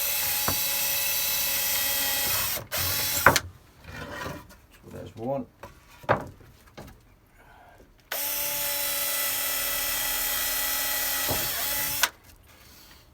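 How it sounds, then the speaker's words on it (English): A power drill bores pilot holes in wood for a greenhouse potting bench, with two long, loud, steady whining runs of several seconds each. Someone speaks briefly in the quieter gap between them. "But if I drill pilot holes first,"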